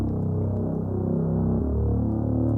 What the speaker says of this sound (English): I'm just using this flex patch, which is called Creeper Drone.